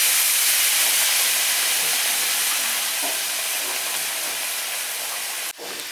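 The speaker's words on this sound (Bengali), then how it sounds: "এক চামচ এবার জল দিয়ে আমি ভালো করে সিদ্ধ করে নেব" Snail meat boils in water in a pan, giving a continuous steamy hiss that stays close and steady for about five seconds before cutting off abruptly.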